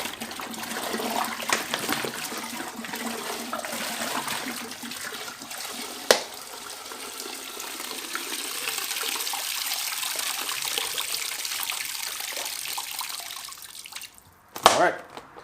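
Water runs steadily into a Lake Country System 4000 pad washer bucket, a close, continuous filling splash with a sharp knock partway through and a brief clatter near the end.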